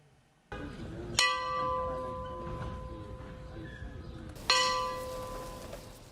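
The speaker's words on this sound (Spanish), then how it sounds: "Las últimas campanadas para el último adiós a las afueras del lugar que por años la vio crecer." Church bells tolling for a funeral in Chile, two distinct ringing strikes a few seconds apart, each decaying slowly over a murmur of outdoor background noise.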